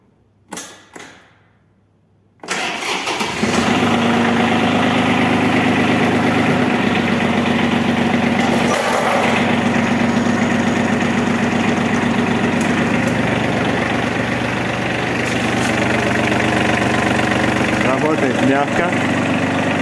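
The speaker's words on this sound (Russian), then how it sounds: "Также запустим мы этот трактор и послушаем, как он работает и, собственно, звучит." An ISEKI TM17 tractor's diesel engine cranks briefly and then starts and settles into a loud, steady idle with a constant low rumble close by.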